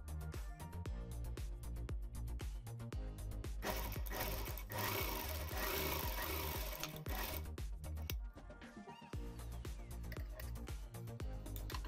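A household sewing machine runs and stitches with a rapid, rhythmic needle clatter. It speeds up into a dense whirring stretch, then pauses briefly and resumes its steady ticking.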